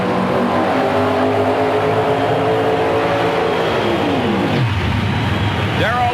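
Dodge and Pontiac drag race cars roar down a nostalgia drag strip in a loud, sustained engine blast, pitch sweeping down as they pass, with a commentator talking over the noise.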